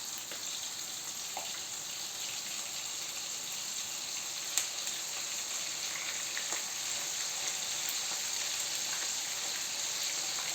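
Steady, dense sizzling of meatballs frying in a hot pan, a constant crackling hiss with occasional small pops, no voices.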